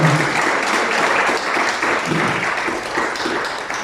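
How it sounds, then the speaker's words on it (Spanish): A church congregation applauds together in a dense, steady roar of clapping hands that stays loud and unbroken for the whole stretch, with faint voices mixed in. "Dele fuerte ese aplauso."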